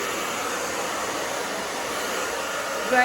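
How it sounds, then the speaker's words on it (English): A hair dryer blow-drying a coarse-haired pixie cut, a loud, steady close whoosh of airflow throughout, with no talking. "we're gonna blow dry the opposite way to help that root lifter work."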